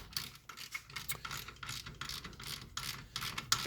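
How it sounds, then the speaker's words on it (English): A torque wrench ratchets repeatedly while Akebono big brakes are fitted to a Nissan 300ZX Z32. Rapid clicking strokes come close and fairly faint, with no talking. "I love this wrench because not only does it have a standard length, a little longer, you could bring it all down to here and get a lot of torque on it"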